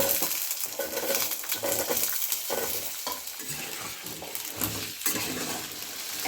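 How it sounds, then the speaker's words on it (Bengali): Potatoes added to a pan of oil with five-spice seeds and green chillies, frying with a bright crackling sizzle as a spoon clanks and stirs against the pan, close and steady without speech. "দুটো আলুগুলো দিয়ে দিচ্ছি"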